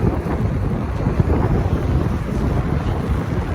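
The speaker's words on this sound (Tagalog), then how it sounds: "Lakas ang hangin pati." Strong wind buffets the microphone in a steady, heavy low roar that stays loud throughout, with no one speaking.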